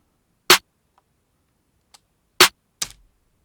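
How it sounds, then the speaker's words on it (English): A snare drum played solo with no distortion, in a beat-production mix. Three dry, sharp hits sound alone, loosely spaced, with faint small clicks between them. "Snare without the distortion sounds like this."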